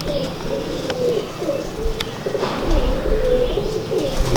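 Pigeons coo repeatedly close by in a pigeon-keeping setting, with soft, rolling calls over a constant background hum and the occasional faint chirp.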